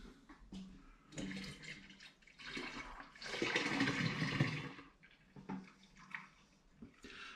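Home-brewed IPA wort is poured into a fermenting bucket, a rushing, splashing liquid flow that swells to a loud gush in the middle and then trails off, with no talk.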